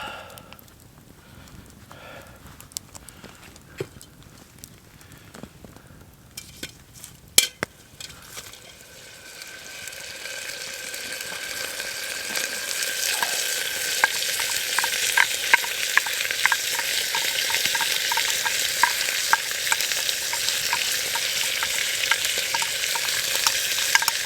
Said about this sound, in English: it is sizzling in there, so that's good. I'm just going to go ahead and throw the garlic and onion in now.